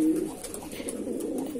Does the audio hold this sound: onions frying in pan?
no